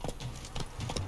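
Hooves of Geralt's horse Roach in The Witcher 3: Wild Hunt, a quick run of steady clip-clop footfalls, close and moderately loud, with no voices.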